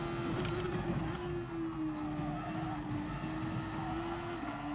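A Super Formula race car in GT Sport at Suzuka runs off onto the grass, its steady high engine whine under a continuous rough, scrubbing tire noise for several seconds.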